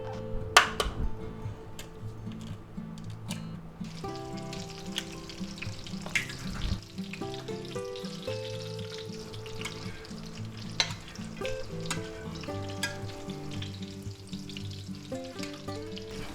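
Egg frying in oil in a cast iron skillet over a medium-low burner, a continuous close sizzle and crackle with scattered sharp pops and a few scraping clinks, no voices.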